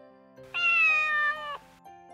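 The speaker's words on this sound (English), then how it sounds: "Cat." A single drawn-out cat meow, close and clear, lasting about a second over quiet background music, given as an animal sound for children.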